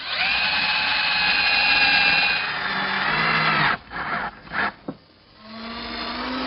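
Cordless power drill driving screws through the tracks into the underside of a wooden toy chest lid, a loud sustained whine that cuts off into several short bursts and stops, close up with no talk.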